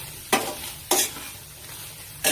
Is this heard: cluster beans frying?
yes